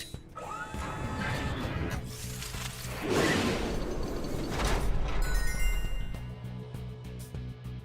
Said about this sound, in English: It seems like the vault has moved again.